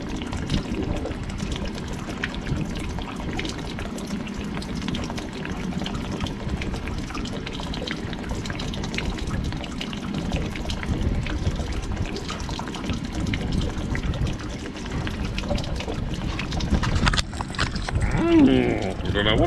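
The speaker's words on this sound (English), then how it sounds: "I'm sure everyone doesn't want to sit and watch water pour out" Water gushes steadily out of a rusty model trawler, a continuous loud pouring and splashing stream that holds for the whole stretch and swells a little near the end.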